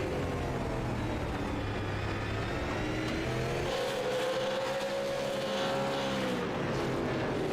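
Race car engine in the iRacing sim at the Bullring, held near 5,000 RPM through a turn: a steady, loud buzzing drone whose pitch climbs gently partway through, with no voices.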